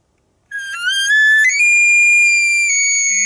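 An elk cow call is blown through a Born and Raised Call Co. bugle tube. It gives a sustained, whistle-like tone that steps upward in pitch and holds loud and steady for nearly three seconds.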